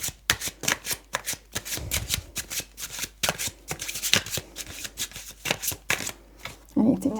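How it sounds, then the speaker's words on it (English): Tarot cards are shuffled by hand in quick, crisp riffling bursts at close range, with a voice speaking softly toward the end. "I'd like to get a couple more cards out from the tarot"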